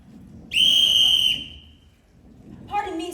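A whistle blown on stage during a Sound of Music theatre production gives one long shrill steady blast lasting under a second, then a voice begins speaking after a brief pause.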